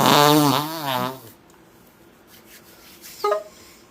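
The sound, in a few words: fart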